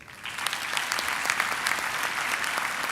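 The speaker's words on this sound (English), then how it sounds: "Let's give them a round of applause again." Audience applause fills a graduation ceremony hall, a dense and sustained patter of many hands clapping together that holds steady at fairly even volume for the whole stretch, with no voices rising above it.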